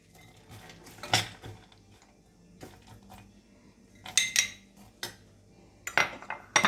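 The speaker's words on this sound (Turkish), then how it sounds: "Erimekte olan tereyağımızın içine iri e, dövülmüş ceviz parçalarımızı ekleyip birazcık döndüreceğiz." Crushed walnut pieces are stirred into melting butter in a pan, with clattering spoon-on-pan knocks and scrapes coming in irregular bursts, close and fairly loud.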